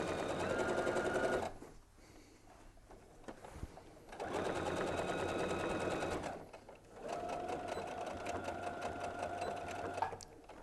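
Domestic sewing machine stitching quilt binding down, running in three steady bursts separated by short pauses, close and clear with no talk.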